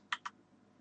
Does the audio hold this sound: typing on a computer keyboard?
yes